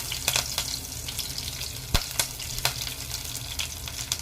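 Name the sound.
cinnamon and curry leaves frying in hot oil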